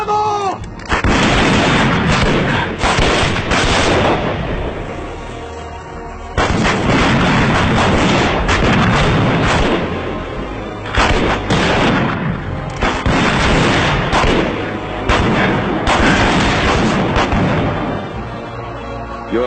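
Dense, sustained volleys of gunfire and booming shots from soldiers in a Peter Pan action film, loud and continuous in long bursts with brief pauses between them.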